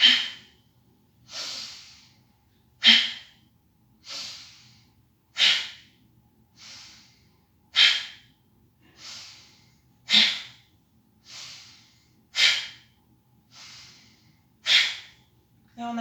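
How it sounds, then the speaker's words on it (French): Deep yoga breaths in a Sivananda session, each airy inhale and exhale pushed through the nose and belly in a steady alternating rhythm, about a dozen strokes close and clear against near silence. "l'inspire pour gonfler le ventre, l'expire en contractant les abdominaux"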